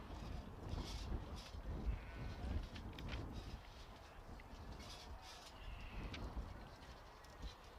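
Sheep bleat repeatedly at a sheep show judging, several calls from a crowded pen at mid distance amid a busy, noisy background of handling and movement.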